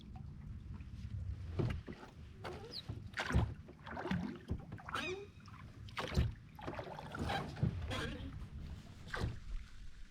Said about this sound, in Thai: พายเรือเข้าฝังละ